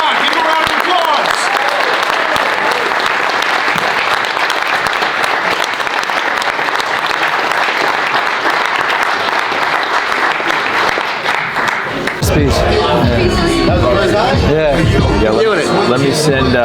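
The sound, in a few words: audience applause at a seminar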